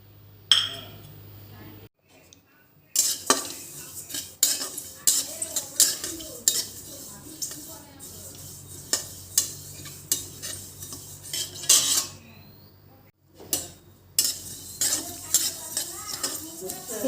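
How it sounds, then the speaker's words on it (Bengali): Sesame seeds dry-fried in a hot kadai, with repeated clinking, scraping stirs of a metal spatula over a faint sizzle and a short silent gap partway through. "এর মধ্যে এখন আমি তিলটা ভেজে নেব।"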